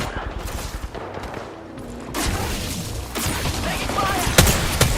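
Dead Space video game combat: dense bursts of rapid automatic gunfire and scattered sharp shots, loud and close over a busy rumbling background, with a few heavier impacts near the end. Some muffled voices mix in.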